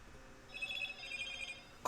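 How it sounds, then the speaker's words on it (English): A mobile phone rings faintly in a quiet room, a steady repeating electronic ringtone that stops with a brief click at the end. "Phone, I thought I silenced you."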